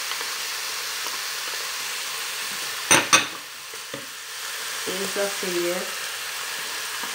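Herbs and tomato sauce are stirred into a sizzling pan of Persian-style stuffed eggplant filling, giving a steady low hiss with a couple of sharp scraping clatters midway, while a voice speaks briefly near the end.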